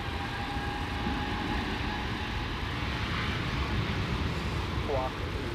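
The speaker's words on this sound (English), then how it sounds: "let's stay with the A330 that we've been waiting for" An Airbus A330 airliner at LAX airport, a loud continuous jet engine roar with a steady broadband rush, heard from nearby on the ground.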